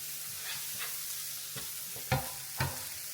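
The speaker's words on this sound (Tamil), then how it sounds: "இதால சோயா மீட் பொரிஞ்சு கொண்டு இருக்குது" Soya meat and vegetable noodles fry in oil and are stirred in a pan, a soft continuous sizzle broken by a few scraping stirs and two louder clanks, with no talking.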